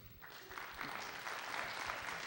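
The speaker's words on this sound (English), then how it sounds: "Let's applaud these folks here." A small audience after a meal claps in a faint, scattered round of applause that swells slightly and holds steady.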